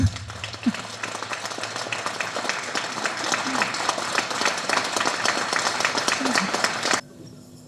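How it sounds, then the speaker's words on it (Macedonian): An audience at a Macedonian performance bursts into steady, dense applause that keeps going for about seven seconds before stopping abruptly, with a few voices heard under it. "ја ќе ве замолам за еден аплауз"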